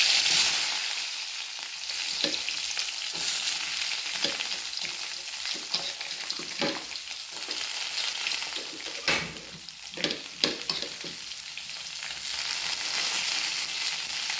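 Sliced onions and curry leaves sautéing in hot oil in a pan, a continuous close frying sizzle broken by repeated scraping stirs and spoon knocks against the pan.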